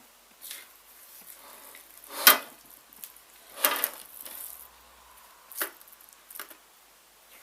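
Hot flapjack mixture of melted butter spooned from a warm bowl: soft scraping and sticky stirring sounds come in a few scattered bursts, the louder scrapes near and distinct against quiet background, with no talking.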